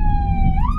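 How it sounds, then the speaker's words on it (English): An ambulance siren on an emergency blue-light drive sounds loud and close in a brief, steady wailing tone that bends upward at the end, over a low road rumble. "I'm going to put the sirens on just past this junction now."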